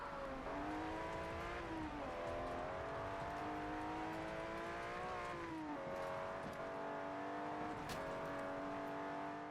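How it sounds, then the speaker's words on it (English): A Bugatti races in Forza Horizon, its engine a loud, steady high whine that rises and falls in pitch as it accelerates and shifts gears, sustained for the whole stretch with no talk. "now that we're in this speed demon of a Bugatti, let's go and race some more"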